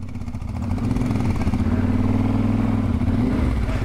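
A motorcycle on a road in Tunisia idles, then its engine swells into a loud, steady drone as the throttle opens and holds, heard close up.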